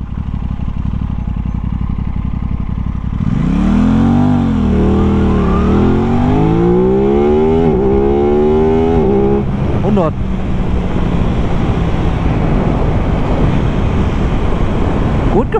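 An Aprilia RS 660 sport motorcycle accelerates hard from a standstill to 100 km/h on a slight uphill road, its engine note climbing in a series of rising sweeps broken by quick gear shifts, close and loud, before fading into wind roar.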